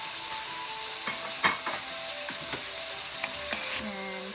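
Green parts of Napa cabbage sizzle and fry in a hot pan for Filipino pancit guisado, a steady crackling hiss broken by a few stirring clanks and scrapes of a utensil.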